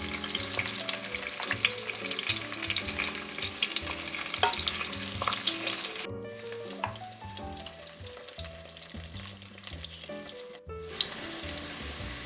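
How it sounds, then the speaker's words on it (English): Potato slices frying in a pan for Persian tahdig, a continuous crackling sizzle with stirring clatter, close and fairly quiet, briefly cut off twice before resuming, with no talking. "The second side of potato is frying"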